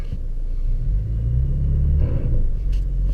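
A stuck 2017 Toyota Tacoma with traction control switched off strains to pull away, its engine a steady, close low rumble with a slight swell partway through and no talking.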